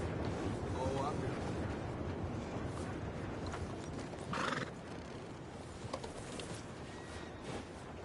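A horse whinnies in a video game over steady rustling background noise, with a few faint hoof clops and a voice speaking in the mix.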